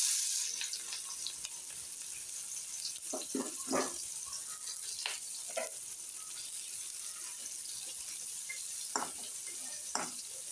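Sliced onion fries in oil left over from frying shing and pangas fish, giving a soft, steady sizzle with occasional clinks and stirring scrapes, faint and close.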